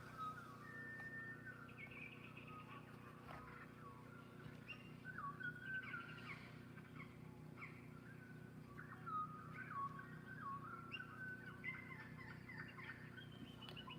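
Outdoor birds call repeatedly, a run of wavering gobble-like and whistled notes from a turkey or other fowl, faint and distant over a steady low background hum.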